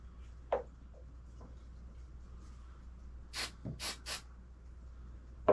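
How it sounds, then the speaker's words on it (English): Three quick hissing bursts of glue activator spray in a row, close and fairly loud, after a few faint taps against a quiet background hum, during a model boat build. "Spray from the activator."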